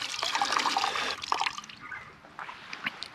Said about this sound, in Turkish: Çeşme var ama vallahi su da var. Şöyle bir yüzümü yıkayayım.